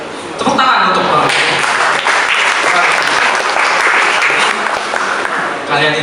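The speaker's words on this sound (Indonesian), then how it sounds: "Tepuk tangan untuk Bapak." Loud, full applause from a young audience at a discussion event erupts after a brief pause and keeps going as a thick, unbroken wash of clapping.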